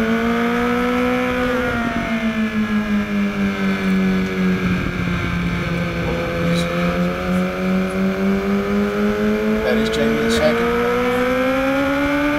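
Novice SuperStreet race cars at Sandia rounding the track, droning engines that rise and fall in pitch as they pass, with an announcer commentating over them.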